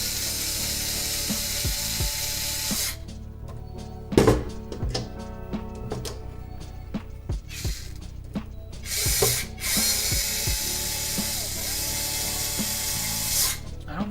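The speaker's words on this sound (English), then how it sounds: "Moment of truth, the unipod will move properly." A 3D-printed hexapod robot leg driven by motors moving through its motion, heard as a steady whirring drone broken by repeated ratcheting clicks and mechanical clacks, close and alone without speech.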